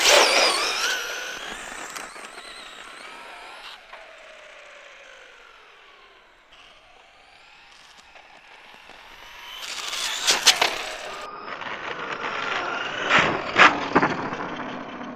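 A Traxxas Stampede RC car on 3S Lipo, a high-pitched electric motor whine that fades off, then returns louder with sharp revving bursts and clatter as it passes near.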